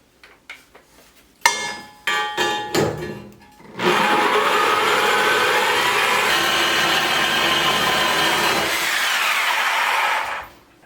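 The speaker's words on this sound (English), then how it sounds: "We're going to try using a Sawzall. I think this thing will do it." Sawzall reciprocating saw cutting a steel piece on a log arch: a few short stuttering starts, then a loud continuous buzzing cut for about seven seconds before stopping.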